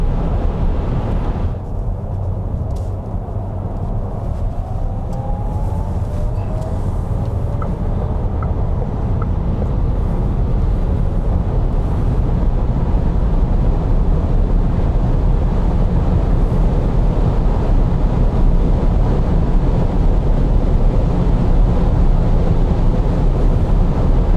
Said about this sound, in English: Then let's try and drive the top speed of 180 kilometers an hour.